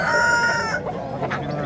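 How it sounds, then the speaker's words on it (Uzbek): Chickens and roosters at a bird market in Tashkent, a brief close burst of clucking and crowing that breaks off partway, with faint market noise behind. "Tovuq xorozlar."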